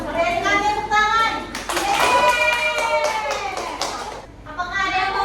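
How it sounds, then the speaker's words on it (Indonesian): A small group of students gives a short burst of clapping in a classroom, close and fairly loud, with children's voices and chatter running through and over it. "Berikan tepuk tangan"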